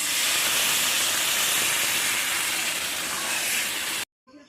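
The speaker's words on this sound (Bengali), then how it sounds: "তরকারিগুলো সুন্দর ফুটে গেছে" A pot of curry with potatoes and fish boils steadily, giving a dense, loud hiss and bubbling close by that stops abruptly near the end.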